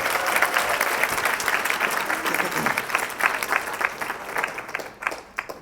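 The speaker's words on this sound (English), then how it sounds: "Let's give a round of applause to Tim." Sustained applause from an audience at a ceremony's thank-you segment, dense steady clapping from many hands that fades slightly toward the end.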